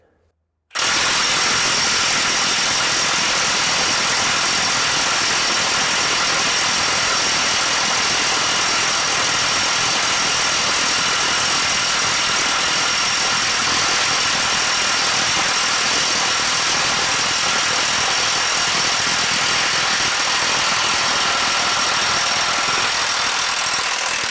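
A RIDGID 18V 3/4-inch high torque cordless impact wrench on a full battery in speed 3 hammers at a socket, starting abruptly and sustaining a loud, dense, buzzing rattle for over twenty seconds without pause.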